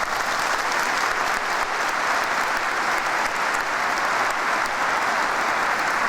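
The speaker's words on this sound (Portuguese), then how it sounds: "aplauda essa palavra que é santa" A church congregation at a Pentecost gathering in Londrina applauds steadily, a dense, even wash of many hands clapping that holds at full strength throughout, with no voices standing out.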